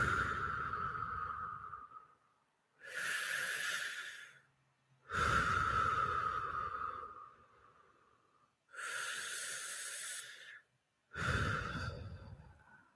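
Several slow, deep breaths taken to settle and get centered, each a long audible inhale or exhale separated by short pauses, close and fairly quiet with no talking.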